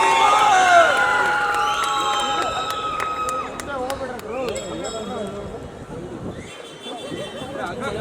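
Crowd at a movie trailer launch event cheers and shouts loudly, with whoops and excited voices over a steady wash of applause and babble that holds throughout.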